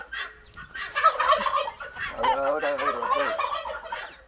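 Farm poultry released on a rural estancia in San Luis, a flock giving loud, close, rapid gobbling and clucking calls in overlapping bursts; a voice speaks briefly.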